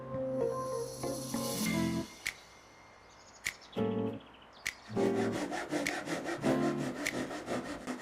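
A handsaw cuts a wooden slat at an angle for a cat play area, with bursts of rasping strokes, a short pause and sharp knocks, then faster rhythmic sawing to the end, close and clear.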